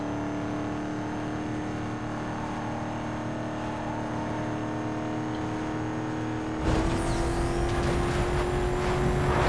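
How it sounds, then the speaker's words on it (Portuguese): A car engine in Need for Speed Most Wanted drones at top speed, around 315 km/h, with a steady high whine and loud continuous roar, then a sudden shift to a rougher, noisier sound near the end. "Olha lá, 315 por hora, o carro cortou."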